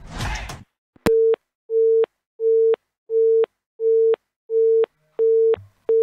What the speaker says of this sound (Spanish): Me quedó sonando el teléfono acá.